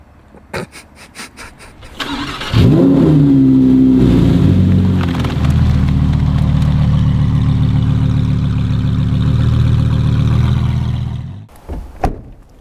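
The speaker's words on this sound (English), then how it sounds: "I mean, it's still loud. We're talking about a Lamborghini" A Lamborghini Huracan GT3 engine cranks and fires after a few clicks, then bursts into a loud rev and settles into a rough, throbbing idle before cutting off, close and unaccompanied by speech.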